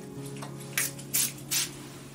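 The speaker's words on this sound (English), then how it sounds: "This is the sound of our Gem Formula's orange colore spray being sprayed into the field of the experience." Orange gem essence spray from a pump bottle, three short hissing bursts in quick succession, close and clear over a quiet background hum.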